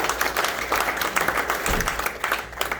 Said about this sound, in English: Round of applause for Lance as well.